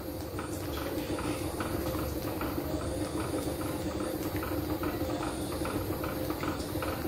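A yogurt and fenugreek curry (dahi methi sabzi) boils in a pan over high heat, giving a steady, dense bubbling and popping with a constant hiss throughout, with no talking.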